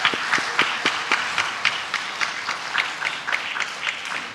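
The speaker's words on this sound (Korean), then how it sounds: "우리 큰 박수로 우리 환영할까요?" A church congregation at Sunday worship applauds to welcome two new members who have finished their newcomer study, giving moderately loud, continuous clapping with crisp individual claps popping through the crowd.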